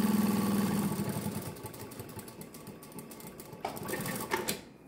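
An industrial sewing machine stitching along a folded strap, a fast steady mechanical chatter at the start that slows and fades, followed by shuffling and handling of the material close by.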